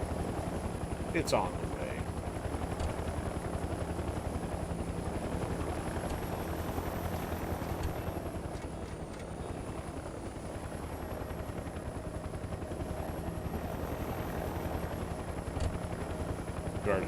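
A helicopter flies continuously in the video game Mercenaries 2, its steady rotor drone loud throughout, with someone talking briefly over it.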